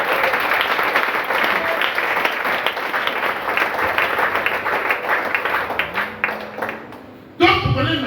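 A church congregation applauds and cheers together in a sustained, dense wash of clapping that fills the hall, with voices mixed in, before it breaks off abruptly near the end.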